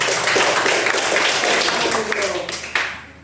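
Students in a classroom clap together for a group during a math lesson, a dense, close patter of hands with voices mixed in before it tapers off.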